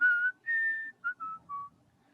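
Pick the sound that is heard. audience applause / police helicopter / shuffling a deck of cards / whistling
whistling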